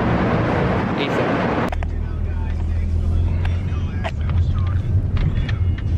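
Interior of a Lyft car on the road: a broad rush of road and engine noise at first, then a steady low rumble with a hum, while people talk over it.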